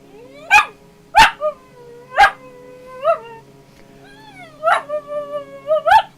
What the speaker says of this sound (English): I'm going to get up here and stare at the screen and whine.